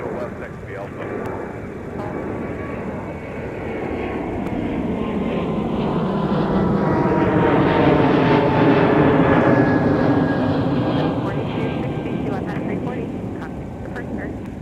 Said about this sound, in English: It's Delta 2673 getting airborne for Houston 5518 with an Airbus A220 at the point.